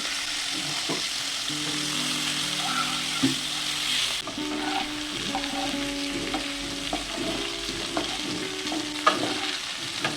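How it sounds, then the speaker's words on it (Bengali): Hilsa fish heads frying in a pan crackle with a steady, close sizzle, punctuated by scraping stirs and occasional utensil knocks over about ten seconds, with no talking. "মাছের মাথাগুলো ভাজা হয়ে গেছে এবার একটি পাত্রে এগুলোকে তুলে নেবো"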